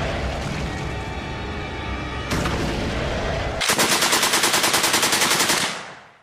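A German machine gun rated at up to 1,500 rounds per minute fires loud, rapid bursts, ending with a fast, even ripple of shots before the sound cuts off, heard alone without speech.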